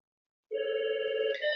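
An indoor telephone starts ringing after half a second of silence, giving a steady electronic tone with harmonics that shifts pitch slightly near the end; moderately loud and alone, with no voices.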